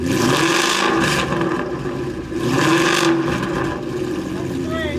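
A 2018 Mustang GT with a full Corsa exhaust idles and revs to about 2,000 RPM outdoors. The loud, rough engine drone swells twice in throaty pulses.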